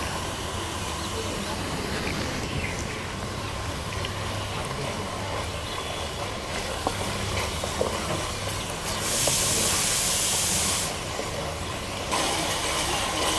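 Onion and turmeric masala fries in oil in a pan for chicken curry, giving a steady, loud hiss and sizzle throughout, with a brief brighter surge of spitting near the end.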